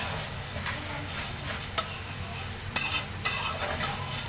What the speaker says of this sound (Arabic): نفضل نقلب فيها كده ونحط ايه كلها لون واحد موحده.